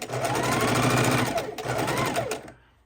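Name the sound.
sewing machine sewing log cabin quilt block scraps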